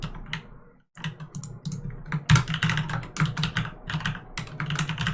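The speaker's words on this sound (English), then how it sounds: "my awesomely loud Corsair K95 RGB Platinum keyboard" Rapid bursts of loud mechanical clacking come from a Corsair K95 RGB Platinum keyboard being typed on up close, with uneven clusters of keystrokes, a brief pause near the first second, and a low hum underneath.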